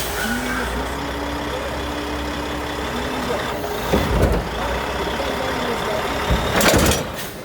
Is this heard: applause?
no